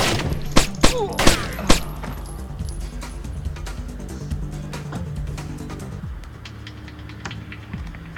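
Gunfire in the stealth game Splinter Cell: a rapid burst of four or five loud shots in the first two seconds, then lower thuds and a steady game rumble with scattered faint impacts.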